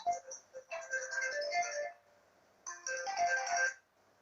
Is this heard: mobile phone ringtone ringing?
yes